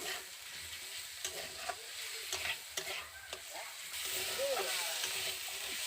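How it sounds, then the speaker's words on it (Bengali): Tomato, salt and white mustard seeds stirred in a hot frying pan: a steady close sizzle with repeated scraping strokes of a spoon against the pan, growing slightly louder toward the end. "এবার সব উপকরণগুলোকে ভালো করে নাড়িয়ে চাড়িয়ে নেব"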